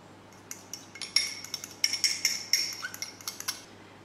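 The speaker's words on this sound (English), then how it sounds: "So we'll just whisk this." A whisk clinks fast and unevenly against a bowl while it works through lemon tart filling, the ticks bunching and thinning over a few seconds.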